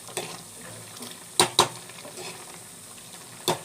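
A pot of bubbling tamarind curry is stirred, giving a soft, steady simmer. A spoon knocks sharply against the pot a few times, two clinks close together and another near the end.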